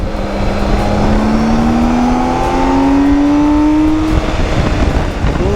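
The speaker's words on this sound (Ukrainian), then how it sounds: "А ну зараз третю врублю." A car pulls hard in third gear, its engine note climbing steadily and loud from inside the cabin over several seconds before easing off near the end.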